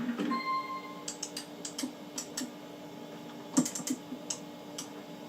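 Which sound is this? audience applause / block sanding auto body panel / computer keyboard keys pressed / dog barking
computer keyboard keys pressed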